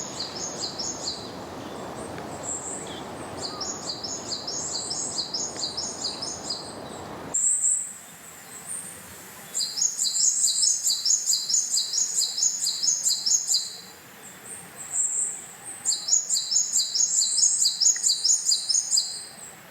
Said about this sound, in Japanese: 鳥の鳴き声がずっとしてます